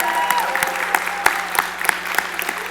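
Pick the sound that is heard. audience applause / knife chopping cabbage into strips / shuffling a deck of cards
audience applause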